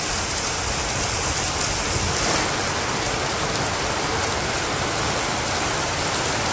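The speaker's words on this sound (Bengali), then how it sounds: "সকালবেলা বৃষ্টি মোটামুটি ভালো হইল" Steady morning rain falling on a rural Bangladeshi village, a dense, even hiss that holds constant and close throughout with no voices or breaks.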